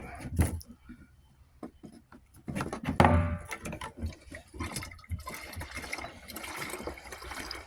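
Oil is pumped from a 55-gallon drum with a hand pump, making irregular gurgling and splashing pulses with soft knocks. The sound is faint and uneven, as if heard from close by but at low level.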